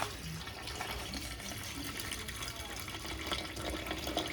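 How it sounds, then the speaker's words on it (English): Steady rushing hiss of water pouring into a hot pan for gumbo, a continuous broadband wash with slight fluctuations, fairly close and with no talking. "We'll go ahead and put some water in it."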